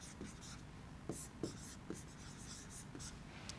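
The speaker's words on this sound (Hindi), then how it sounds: "यहाँ लिख देता हूँ मैं" Chalk or marker writes on a board during a hydraulic engineering lecture, giving a few soft, scratchy strokes and taps against a faint background hiss, heard alone without speech.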